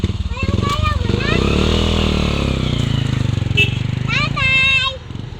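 A borrowed motorcycle's engine runs close by in a steady throbbing drone while voices talk and call out over it, the engine easing off near the end.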